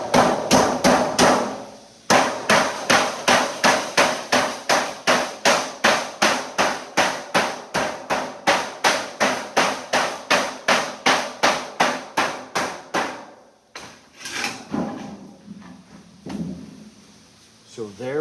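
Rapid, evenly spaced hammer blows ring out on a sheet metal flange being formed into a plenum, dozens of sharp metallic strikes in a steady rhythm, a brief pause, then a few scattered hits and handling sounds.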